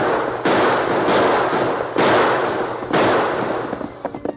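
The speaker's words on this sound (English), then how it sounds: "In spite of the flying bullets which came dangerously close, the great Silver held his swift pace" Gunshots as an old-time radio drama sound effect in a Lone Ranger western chase, with several loud bursts in quick succession, each cracking and trailing off into noise, and a few sharp pops near the end.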